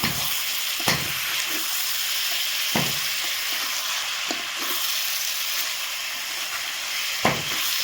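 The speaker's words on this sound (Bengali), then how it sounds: "আমি আমি মাংসটা ভালো করে ভাজিয়ে নেব।" Meat frying in an electric wok, a steady close sizzle and hiss throughout with a few sharp clicks of stirring scattered across it, no voices.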